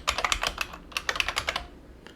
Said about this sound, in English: we just hit enter on the keyboard